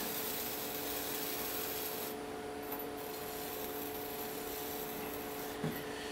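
A strap trim tool scrapes a 5 lb clay jar turning on a potter's wheel, making a continuous close rasping, rubbing sound over a steady motor hum with no talking.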